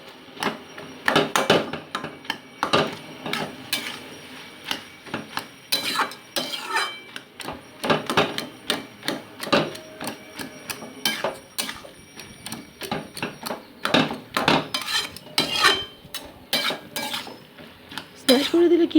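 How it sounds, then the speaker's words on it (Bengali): Metal spatula repeatedly smashing and scraping boiled flat beans and potatoes frying in a pan, a dense run of clanking, tapping strikes against the pan, loud and close, with no talk. "মোটামুটি এগুলোকে আমি একটু স্ম্যাশ করে নিচ্ছি আর কি, খুন্তি দিয়ে একটু স্ম্যাশ করে নিচ্ছি"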